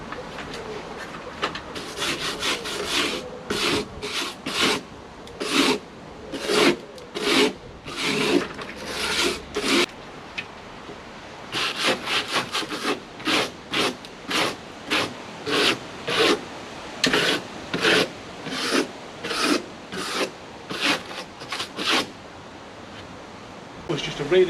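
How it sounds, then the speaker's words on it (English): A metal wire brush scrubs rotten, flaky wood in repeated rasping strokes, short scratchy bursts in a loose back-and-forth rhythm with brief pauses, close and fairly loud. "Was just a really light going over with the metal brush"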